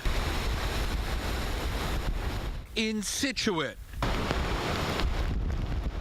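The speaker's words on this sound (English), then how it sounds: "Jericho Road pounded by the angry waves, some of them higher than the homes, and the howling wind." Storm waves pounding the coast along Jericho Road in Scituate with howling wind, a continuous loud roar of surf and wind noise, briefly interrupted by someone speaking in the middle.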